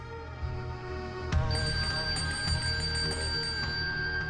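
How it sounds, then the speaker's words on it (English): A servant's call bell jangles loudly and sharply, its bright metallic ring sustained and shimmering after a sudden strike, the clanging tone repeating and lingering in a quiet room. "My bell had rung."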